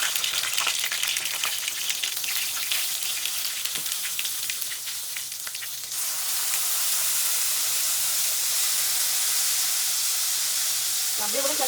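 Dried red chillies sautéing in hot oil for a chutney, giving a steady, close frying sizzle with crackly bursts that turns into a louder, even hiss partway through, with no voices.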